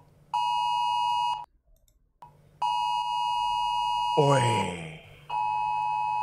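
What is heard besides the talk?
phone emergency alert beeping, AFAD warning notification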